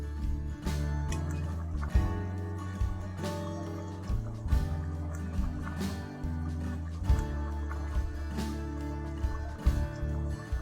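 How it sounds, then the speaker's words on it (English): Chickpeas for chole bubble and simmer in cooking water in a pot. Soft, irregular pops and drips sit at a low level under a steady tonal background, with no talk. "allow the chickpeas to simmer in the water until the gravy thickens"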